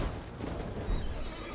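A horse whinnies in the video game Elden Ring over a steady background of game audio and low rumble, with a brief louder burst near the end.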